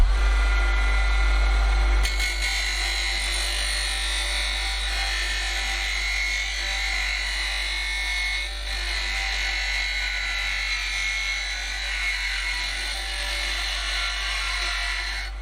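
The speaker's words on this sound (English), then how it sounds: "we'll take it to the bench grinder and just tidy them up ever so slightly" Bench grinder grinding down the edge of a metal handle from a Vevor portable compressor fridge, a steady loud high-pitched whine that starts abruptly and holds continuously with slight dips, no voices.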